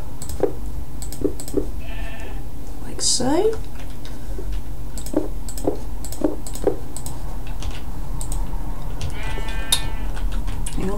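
Sheep bleating in the Minecraft video game, several short game-sound bleats scattered among keyboard typing and someone talking throughout, with a steady low background hum.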